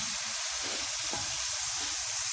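Stir-fry sauce hits a hot pan of beef and broccoli, giving a steady, fairly faint broadband sizzle with a brief bubbling burst midway and no talking.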